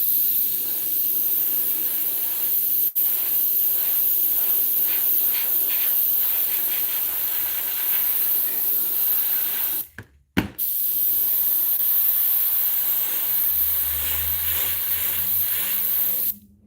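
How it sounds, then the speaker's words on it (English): A paint sprayer that is not spraying properly, before the paint is thinned, hissing loudly and continuously with one brief cutoff partway through and a low hum near the end. "It's not spraying like it should be."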